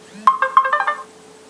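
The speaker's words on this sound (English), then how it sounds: "My wife getting a text message." A text message notification on a phone: a quick run of bright electronic beeps lasting under a second, clear and fairly loud over a steady background hum, with no voices.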